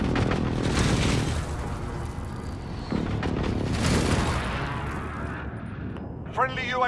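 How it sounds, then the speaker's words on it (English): Precision airstrike explosions in Call of Duty: Modern Warfare fill the clip with dense, continuous rumbling blasts and crackling gunfire-like bursts. The sound stays loud with a fresh impact near the middle, then fades, and a brief chirping game effect follows. "Enemy precision airstrike!"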